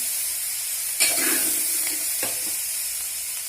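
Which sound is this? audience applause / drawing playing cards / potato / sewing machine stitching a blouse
potato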